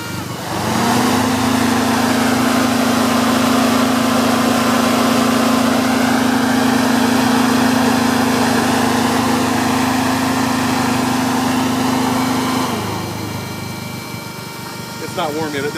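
A GM Ecotec engine in a sandrail idles smoothly and steadily for a long stretch, a close, even drone that eases down near the end, with a brief change in tone as it settles.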